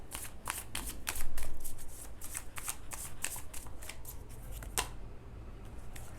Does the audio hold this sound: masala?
no